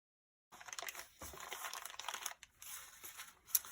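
Paper being cut out with scissors while making a Valentine mini journal cover: a soft, continuous rustle and crinkle of paper handling, close and quiet, with brief pauses and no voices.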